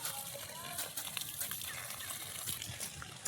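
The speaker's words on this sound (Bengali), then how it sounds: "এদিকে বাগানে সেচাও দেওয়া হচ্ছে বড় পুকুর থেকে জল এনে" Pond water splashing and trickling onto a vegetable garden in the Sundarbans, a steady wet spatter continuing throughout with voices talking over it.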